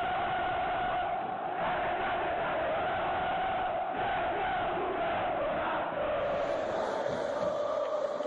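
Brazilian football fans chant in a packed stadium, a dense, steady roar of massed voices sustained throughout at a constant level, with no pauses.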